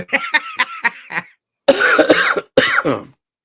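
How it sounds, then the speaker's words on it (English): A person with a sore throat coughing hard and repeatedly up close: a run of rapid hacking coughs, a pause, then two longer, rougher coughing bursts. "I got a bit of a sore throat and I can't stop coughing"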